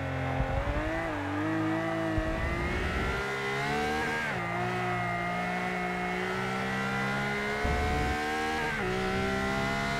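A Ferrari LaFerrari hypercar driven in the racing game Forza Motorsport 6: a loud, continuous high-revving engine note that holds steady and dips briefly at gear shifts around two, four and nine seconds, with no talking.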